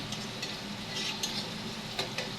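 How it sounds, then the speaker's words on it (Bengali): Onions and oil cooking in a wok with a little salt give a faint, soft sizzle, punctuated by a few light spatula clicks and scrapes as they are stirred. "এখন আমি পেঁয়াজ আর তেল দিয়ে এটা পেঁয়াজটা বাদামি কালার করে নিচ্ছি কড়াইতে"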